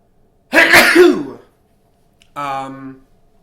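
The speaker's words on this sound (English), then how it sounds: "Excuse me, I'm going to sneeze." A single explosive sneeze bursts out close to the microphone, followed after a pause by a brief voiced throat sound.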